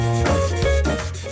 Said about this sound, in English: Just doing a little bit of sanding to get rid of the support material nubs